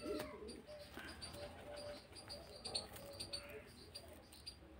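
A pet pigeon makes soft, faint cooing calls, mixed with a few light chirps, in a quiet indoor setting during wing clipping.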